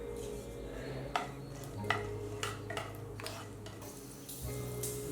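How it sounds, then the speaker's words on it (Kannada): Green chillies frying in a teaspoon of oil in a pan for a spicy chutney, a soft steady sizzle broken by several distinct scrapes and taps of a spoon stirring against the pan. "ಹಸಿಮೆಣಸಿನ್ಕಾಯಿ ಹುರ್ಕೊಳ್ಳೋಣ"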